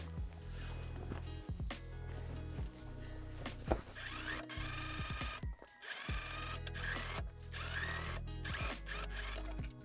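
A sewing machine stitches a box pleat into a Barbie doll's trench coat, running in close, steady mechanical bursts with short pauses between runs.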